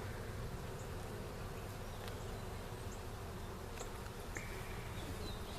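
Honeybees buzz at an opened brood box during a spring hive rotation, a steady, dense drone from many bees close by, with a few individual bees whining past.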